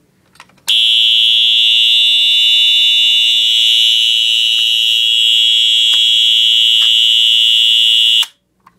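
A fire alarm triggered by a pull station blares a continuous piercing tone for about eight seconds, very loud and close, then cuts off abruptly, with faint clicks before and after.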